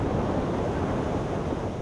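Rough sea waves near a pier in strong wind, heard as a dense, continuous roar of surf and wind buffeting with no distinct breaks and no voices.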